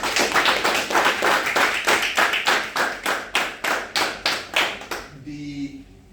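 Applause at a graduation ceremony in Liberia: a dense run of rhythmic, close clapping from a crowd, steady for about five seconds and then breaking off into quiet room sound.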